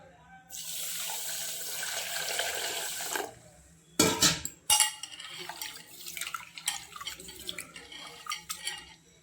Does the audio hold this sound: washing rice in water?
yes